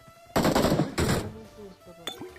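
Two short bursts of UMP45 submachine gun fire in the mobile game BGMI, each a rapid rattle lasting about half a second, followed by a faint tail and a small metallic clink, heard without speech.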